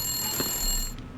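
Telephone in the video game The Long Dark, a steady electronic ring with high sustained tones, heard close and moderately loud before cutting off abruptly after about a second.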